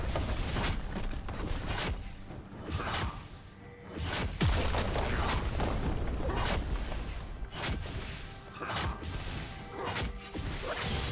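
A turret is destroyed in League of Legends amid a dense barrage of game effects: loud crashes, booms and whooshes that pile up continuously over several seconds.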